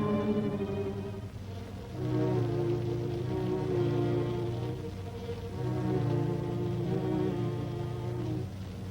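Rain falls steadily on a cold, half-dark early morning at five o'clock, a constant soft patter and hiss layered over a low sustained musical drone, swelling slightly after the first two seconds.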